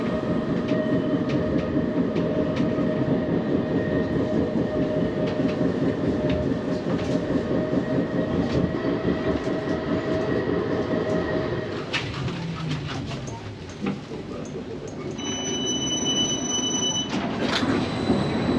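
An Edinburgh tram passes at close range, a continuous loud rolling rumble with steady electric hum and rail squeal that shifts as it goes by, while birds chirp faintly in the background.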